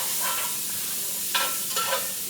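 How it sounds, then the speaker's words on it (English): Sliced turnips for a creamy fall soup sauté in a pan, a soft continuous sizzle with a few louder scraping stirs, close and quiet; no talking. "saute those around"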